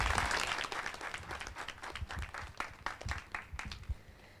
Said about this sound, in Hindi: इसलिए एक बार और ताली बजा दीजिए।